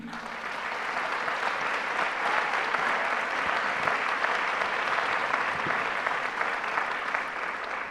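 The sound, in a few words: applause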